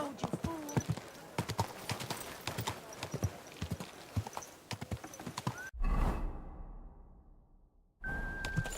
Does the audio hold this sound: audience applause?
no